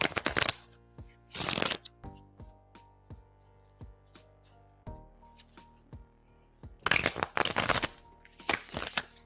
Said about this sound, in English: I'm going to go ahead and shuffle for you now